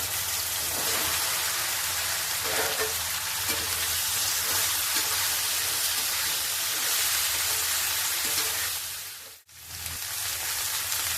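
Okra hitting hot oil with asafoetida, a dense, loud, continuous sizzle that drops out briefly near the end and then resumes, with no speech.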